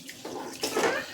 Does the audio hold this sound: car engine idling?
no